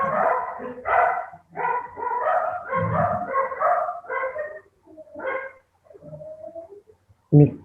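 Dogs barking in reaction to a doorbell at a house, a series of loud close barks and yips in bursts with short pauses, ending in one sharp bark.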